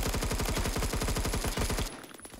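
A rapid, steady string of about twenty shots fired from a gun in the video game Phantom Forces rattles out loud and close, then cuts off abruptly with a short quieter tail.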